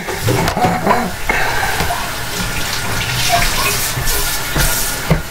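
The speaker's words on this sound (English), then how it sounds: "Running down under water and taking the stickers off?" Tap water runs steadily into a sink while vape parts are rinsed under it and their stickers are peeled off, a loud continuous gush with a few clattering knocks and splashes mixed in.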